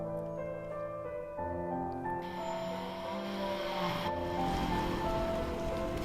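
Steady rain patters continuously in a video game, under a soft, sustained musical tone, with no voices.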